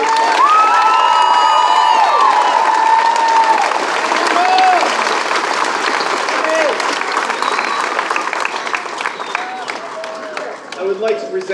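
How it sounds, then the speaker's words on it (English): At a June 2019 graduation ceremony, a large crowd gives graduates a loud, sustained round of applause with cheering, whoops and children's shouts, while a voice speaks over the noise early on. "let's give our graduates one more round of applause."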